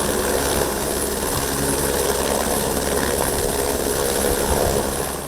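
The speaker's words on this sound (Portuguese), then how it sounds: "na prainha, o helicóptero Arcanjo entrou em ação para apoiar a operação" The Arcanjo rescue helicopter flies during a flood rescue drill in the Vale do Itajaí. Its engine and rotor make a loud, continuous, close drone that stays steady for the whole stretch, with no talking.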